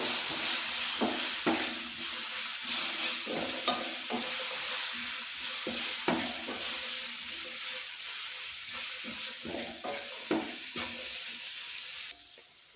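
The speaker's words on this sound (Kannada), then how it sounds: "ನೀಟಾಗಿ ಕಲಸೋಣ." Spicy masala vegetable Maggi noodles are stirred and mixed in a hot pan, a spatula scraping in repeated strokes over a constant sizzling hiss of frying, close and steady, with no talking.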